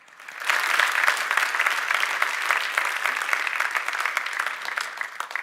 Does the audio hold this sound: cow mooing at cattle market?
no